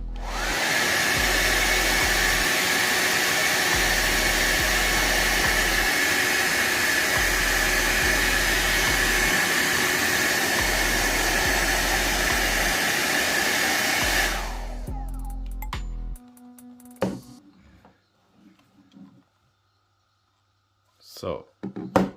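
VGR V431 hair dryer runs with a loud, steady blowing whoosh for about fourteen seconds, close up, then winds down and switches off, leaving near silence with a few small handling clicks.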